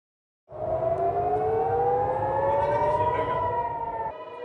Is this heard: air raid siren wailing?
yes